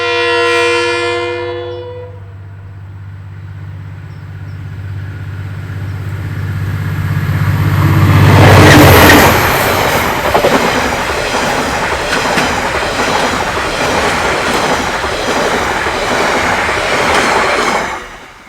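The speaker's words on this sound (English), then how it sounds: "I quite like the sound of these locomotives, especially when they're going like the clappers with the throttle at notch 8." A KiwiRail diesel locomotive hauling the Northern Explorer sounds its horn, then roars past close by under heavy throttle, with loud engine rumble and rattling, clattering carriages continuing steadily to the end.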